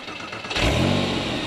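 A Porsche boxer engine cranks and catches on a key turn, then settles into a loud, steady, rumbling idle close by.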